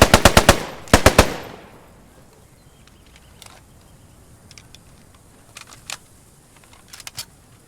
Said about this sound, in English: he hears where the shooting's coming from and he just fires rounds in the general direction